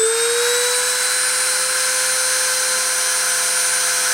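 A spindle spins up to 30,000 RPM for a deposition run, giving a steady, loud, high-pitched whine that sweeps slightly upward at the start and then holds constant with no talk over it.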